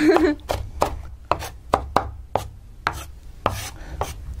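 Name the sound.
knife chopping onion into small pieces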